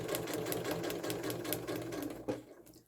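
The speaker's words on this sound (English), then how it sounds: "Put the needle down into the paper, do a couple of back stitches, and then stitch to the end of that first solid line." A sewing machine stitches a quilt block through foundation paper in a steady, fast rhythmic hum and needle clatter, close up, slowing and stopping near the end.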